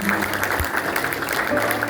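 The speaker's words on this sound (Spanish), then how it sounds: "Fuertes palmas para nuestro Dios." Church congregation clapping in praise during a service, a brief, fairly loud burst of many hands with a voice mixed in underneath.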